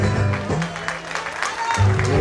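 Audience clapping for guitarist José Lerón at a live folk-group show, a short burst of applause mixed with a voice and lingering music.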